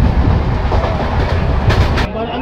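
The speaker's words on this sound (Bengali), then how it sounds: "ট্রেন এটা বাসকিনার স্টেশন থেকে ছেড়ে যাচ্ছে" A passenger train pulls out of a small station, its wheels clattering loud and steady over the rails with a continuous rumble.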